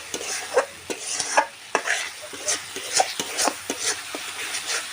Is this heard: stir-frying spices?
yes